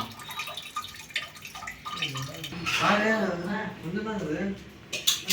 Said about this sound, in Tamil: மேக்ரோனியை இது மாதிரி வடிகட்டி வைத்து கொள்ள வேண்டும்.